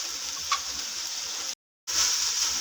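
Macaroni fries with ground black pepper and spices in a pan, giving a steady close sizzling hiss with one brief silent break.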